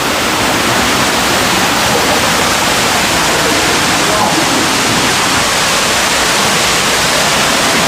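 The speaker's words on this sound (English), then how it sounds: "The cave waterfall is there." A waterfall inside a hidden cavern roars as a loud, constant, dense rush of falling water that fills the space without a break.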